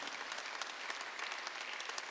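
Church congregation applauding during a Sunday worship service, a steady dense wash of clapping hands filling the whole stretch at moderate level, with no talk over it.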